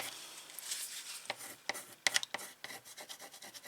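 Fingers press and smooth transfer paper flat onto a canvas in a mixed-media craft piece, making soft rubbing and rasping strokes in short uneven bursts, close and fairly quiet.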